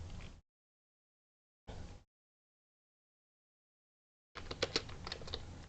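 Short bursts of rapid clicking on a computer keyboard, two brief flurries followed by a longer busier run of keystrokes, close and quiet with silence between.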